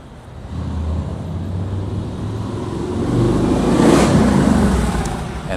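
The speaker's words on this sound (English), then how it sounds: "And that's a motorcycle in the bike lane" A motorcycle rides in a city bike lane on a San Francisco street near Dolores, its engine rumbling up and swelling to a louder pass midway, heard amid steady broadband traffic noise.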